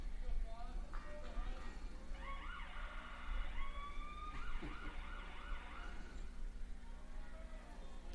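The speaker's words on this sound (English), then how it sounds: "if you guys hear some sirens in the background" Distant emergency sirens wail and rise and fall faintly behind a play-by-play voice at a high school baseball game on Senior Night, with steady crowd and field ambience underneath.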